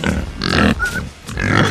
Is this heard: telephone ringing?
no